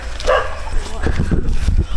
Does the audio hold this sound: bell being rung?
no